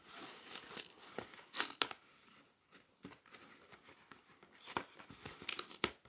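Sticky tape peeled off a paper pop-up card, with crinkling and tearing rasps in uneven bursts, close and fairly quiet, a few sharper rips standing out.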